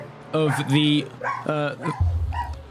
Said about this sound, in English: Do just excuse the dog.